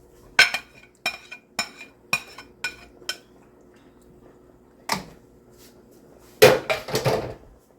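Potatoes dropped one after another into a cooking pot, each landing as a sharp clinking knock in a quiet kitchen, followed by a louder clatter of the pot and utensils.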